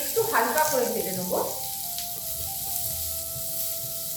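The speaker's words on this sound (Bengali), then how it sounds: "ক্যাপসিকাম আর টমেটোটা একটু হালকা করে ভেজে নেব।" Tomato and capsicum frying in hot oil give a steady broadband sizzle with a brief burst of stirring near the start, then a softer continuous fry and a faint high tone.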